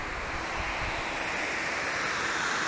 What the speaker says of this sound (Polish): A wodospad jak był, tak jest.